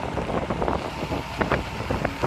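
Strong wind blowing across an open field during an off-road outing in a slippery ravine, buffeting the microphone with loud, gusty rumbling bursts throughout.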